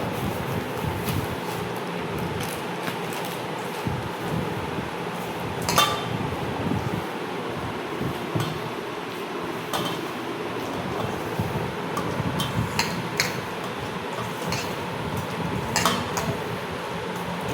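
Banana, coconut, jaggery and sugar batter is mixed with semolina in a bowl, giving soft squelchy stirring with scattered clinks of a spoon against the bowl, close and continuous.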